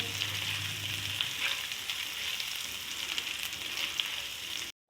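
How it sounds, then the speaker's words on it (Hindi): Garlic and ginger with cumin seeds sizzle steadily in hot oil in a pan, a close, continuous bright frying hiss that stops abruptly at the end, with no talking. "और डालूँगी लहसुन अदरक। और हल्का सा इसको भून लूँगी मैं"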